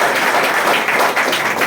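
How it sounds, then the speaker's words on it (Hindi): Loud, dense applause from a crowd at a community get-together in Okhla, steady clapping filling the whole stretch with no voices above it. "इनके लिए भी एक बार जोरदार ताली बजा दीजिए"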